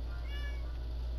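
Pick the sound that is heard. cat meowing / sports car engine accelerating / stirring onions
cat meowing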